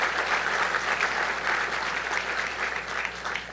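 An audience at a breakfast event applauds sponsors with a steady, dense wash of clapping that carries on throughout and tapers slightly at the end, with no speech over it.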